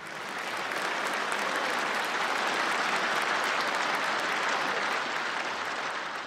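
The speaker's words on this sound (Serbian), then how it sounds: "Jedan veliki aplauz za poljoprivrednike." Sustained, dense applause from a crowd at a New Year cocktail gathering in Jagodina, Serbia, clapping for farmers, swelling quickly and holding steady for several seconds before easing slightly at the end.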